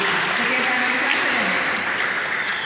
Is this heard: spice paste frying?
no